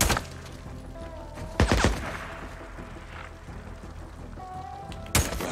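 Sporadic gunfire in Days Gone, three sharp isolated shots spaced seconds apart over a low ambient bed, each a loud crack that fades quickly.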